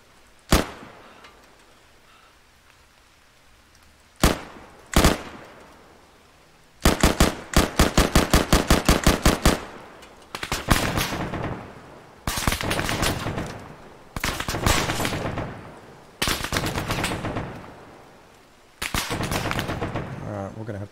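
A mounted machine gun fires in a base-defense video game: a few loud single shots, then rapid bursts and long sustained volleys of automatic fire, sharp and close, with someone talking faintly in between.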